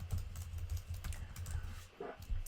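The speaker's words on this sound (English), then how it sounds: "just click on add new, type that person's email address" Someone types an email address on a computer keyboard with quick, soft, uneven keystrokes that sound close and fairly quiet, with a short pause near the end before a few more taps.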